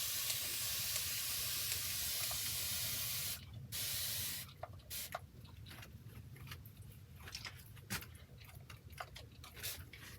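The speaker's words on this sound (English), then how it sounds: "That is my fine mist, my fine sprayer." A fine mist sprayer hisses in several loud bursts over the edge of a large textured acrylic mixed media abstract painting, with quieter short spritzes following, against a steady low background hum.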